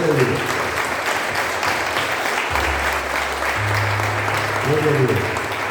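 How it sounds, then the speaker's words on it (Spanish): A church congregation claps steadily through the service, a continuous wash of applause with low organ or keyboard tones and brief sung or spoken voices underneath. "Denle ese aplauso, Señor,"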